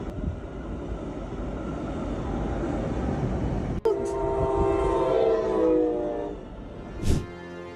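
A train rumbles past at a crossing in Florida, a steady heavy roar with a horn sounding partway through and a brief sharp blast near the end, close and loud.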